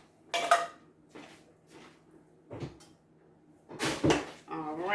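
Chicken pot pie filling being stirred in a pot: a few scattered scrapes and clinks of a spoon against the pot, quiet to moderate, with a person talking between and over them.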